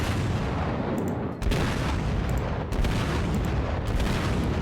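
The Japanese battleship Ishizuki fires high-explosive rounds in World of Warships. Dense, booming gunfire roars continuously and loudly, broken by a couple of brief dips between salvos.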